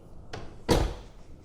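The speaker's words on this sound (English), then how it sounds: "So let's shut the door and we'll keep rolling." A soft thump followed by a louder, solid Tesla car door slam, two quick impacts close by in a quiet space.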